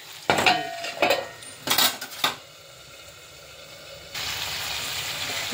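A metal spatula strikes and scrapes a pan while green chillies are sautéed for a koi fish curry. Several sharp clanks come close together early on, followed by a soft, steady sizzle. No one speaks.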